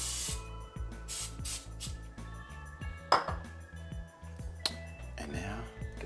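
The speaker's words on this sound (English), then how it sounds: "Spray my pan." Cooking spray is sprayed into a pan over a gas stove before pancake batter goes in, making a short hiss amid a few light clinks of kitchenware while a voice talks throughout.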